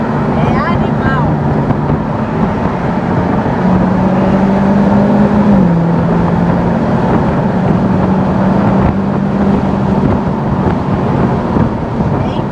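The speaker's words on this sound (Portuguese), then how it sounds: "Andar com um carro de capota abaixada numa estrada." A 2021 Jaguar F-Type convertible cruises on an open road with the top down, giving a loud, steady roar of wind buffeting and engine drone that lasts throughout, with voices faintly underneath.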